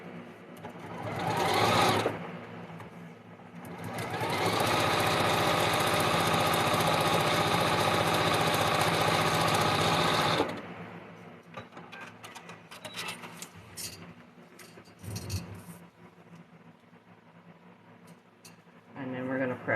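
Sewing machine stitching fabric during a vortex-pattern sew-along: a short burst, then a long steady run of loud mechanical whirring that stops abruptly, followed by quieter handling noises and brief rustles.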